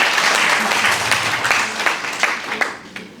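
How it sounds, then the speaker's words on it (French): Audience applause at the official launch of a women's coaching programme for elections, a dense, loud wash of many hands clapping that thins toward the end, with a few sharper individual claps standing out. "On applaudit ça."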